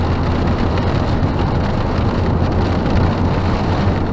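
Heavy rain pounds around a moving car in a steady, loud, broadband wash mixed with road and engine rumble, with no speech.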